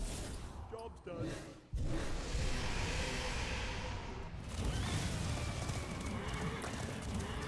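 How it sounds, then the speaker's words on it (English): Horses neigh and whinny in the Hearthstone card game, with galloping clip-clop hooves and a whoosh, loud and busy for several seconds. "Oh my god, that's a lot of horses!"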